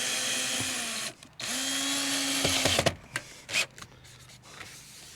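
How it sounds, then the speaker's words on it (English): A power drill loosens an exterior-grade deck screw in brick molding around an entry door, then drives it back in, whirring in steady bursts with short pauses and a few clicks between runs. "This one here we need to loosen and drive back in."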